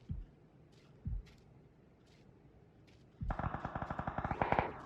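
Distant gunfire in the battle game PUBG: two faint isolated shots, then a rapid burst of automatic fire near the end, with no talk over it.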